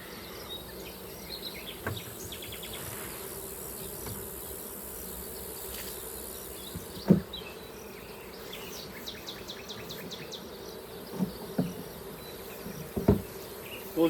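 A honey bee swarm hums in a dense, continuous drone while being moved into a new hive, with scattered knocks and faint bird calls from outside.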